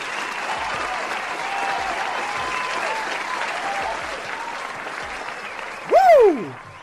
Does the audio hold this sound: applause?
yes